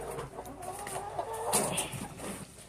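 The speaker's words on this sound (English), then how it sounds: "I'm trying to take you guys in the chicken coop to go show you the other chickens." Chickens cluck and chatter in a backyard chicken coop, several birds calling in short bursts at close range over a busy outdoor background.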